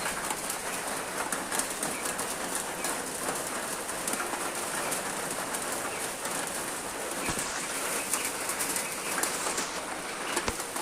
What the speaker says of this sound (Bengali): খুবই বৃষ্টি আসছে এখন